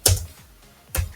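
Two sharp computer-keyboard keystrokes, about a second apart, typing an nmap command in Kali Linux; close and crisp with quiet room tone in between.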